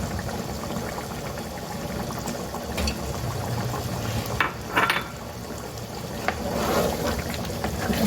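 Beef trotters being fried in oil in a pot for beef paya, with a steady bubbling sizzle and a few louder spits and pot scrapes partway through; no talking.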